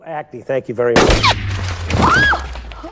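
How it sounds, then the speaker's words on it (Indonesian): A film shootout erupts with a sharp burst of gunfire and ricochet-like whines after someone speaks briefly at first. "Namun aksi tembak-tembakan ini belum berakhir"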